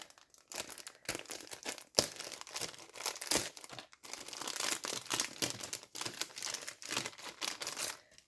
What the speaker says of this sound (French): pour bien ouvrir mon sachet, ça sera par en haut